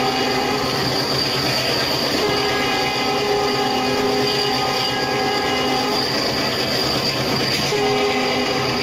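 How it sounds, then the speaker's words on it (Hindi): A diesel locomotive hauls a freight train in the Open Rails train simulator, giving a steady, loud, continuous engine rumble with a sustained horn tone over it. The sound runs throughout, and no one talks. "तो आप सुन ही सकते हो कि हमारा लोकोमोटिव कैसा छगिंग साउंड कर रहा है और साथ साथ में हॉर्न भी बजा रहा है।"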